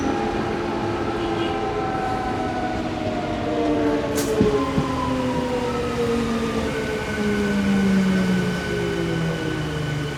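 Inside a second-class carriage of a MEMU train running in Kerala, a steady rumbling roll carries rising and falling electric motor whines, with a brief sharp click midway.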